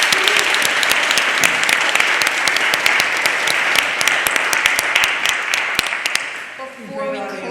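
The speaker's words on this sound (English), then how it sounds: "Everyone, one more round of applause for Faye and Vivian" An audience at a reproductive justice talk gives a loud, sustained round of applause with sharp individual claps standing out, then fades away at the end as a voice begins.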